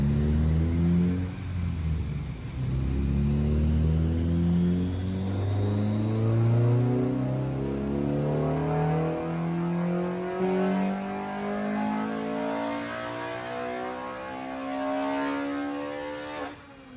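A Honda B16a engine with CTR pistons and an ITR cam revs hard through a dyno pull, its loud tone rising steadily in pitch over many seconds before dropping off at the end.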